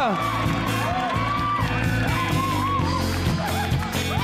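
A crowd at a junior innovation competition final claps and cheers for the champions, with whoops and shouts rising over dense applause and music playing underneath.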